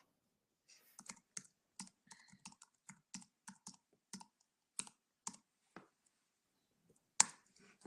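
Quiet, close keystrokes tap out a chat message on a computer keyboard in irregular bursts with brief pauses, ending in a sharper final key press.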